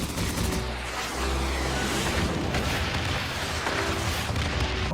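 A Wave Cannon skill attack in Dragon Quest Tact lands on all enemies with a dense, continuous roar of booming blasts and crackling impacts, loud and sustained for the full five seconds.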